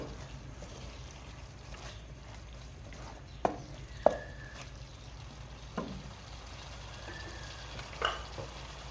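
Chicken veg macaroni with chili garlic sauce cooking in a pan, a quiet low sizzle with a handful of sharp spatula clicks and scrapes spaced apart, no voices.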